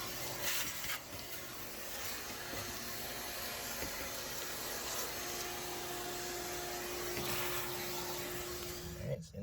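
Vacuum cleaner drawing hard through a nozzle while sucking up a yellow jacket nest, a steady whining hiss with a faint tonal hum that runs unbroken, then cuts off abruptly at the end.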